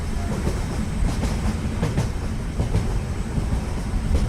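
A cartoon train runs steadily along the rails, a continuous low rumble with a faint clickety-clack of wheels on track, close and loud throughout with no talking.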